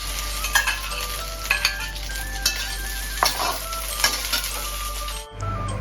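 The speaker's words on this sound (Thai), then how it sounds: "จะเอามาทอดให้มันหอม" Shrimp paste frying in hot oil for an old-style Thai chili relish with minced pork, a steady close sizzle with a spatula stirring and scraping, occasional clinks of metal on the pan, ending abruptly.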